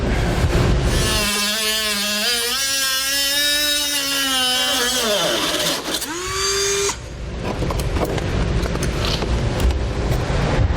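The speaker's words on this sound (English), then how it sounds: "I'm just going to use a Dremel tool to make that cut." A Dremel rotary tool cuts an opening in a vehicle's plastic front fascia for a Roadmaster crossbar-style base plate, a loud high whine that rises and dips in pitch, then shifts to gritty grinding.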